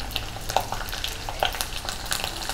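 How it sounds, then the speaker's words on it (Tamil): Steady crackling and sizzling of garlic frying in hot oil, with occasional small pops, fairly quiet and close. "கொஞ்சம் பொரியும் போதே பூண்டு போட்டுருங்க"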